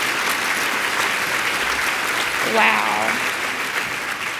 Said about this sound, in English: Please give the youth another hand of applause.